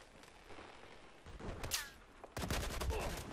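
Battlefield 4 gunfire on the Nansha Strike map in Conquest mode: scattered shots crack at first, then a heavy, sustained burst of rapid automatic fire rattles close and loud through the second half.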